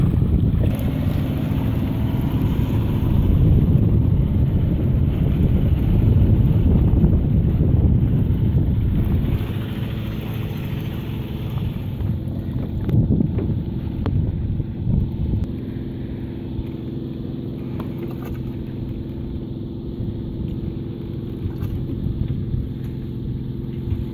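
Kayaks with hand paddles move across open water near Pulau Ubin's Mamam Beach, strong wind buffeting the microphone with a loud low rumble and splashing water throughout.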